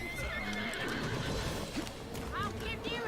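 A horse whinnies and hooves clip-clop as a horse-drawn carriage is driven in the video game Assassin's Creed Syndicate, amid busy game-like sounds, with voices talking over the top.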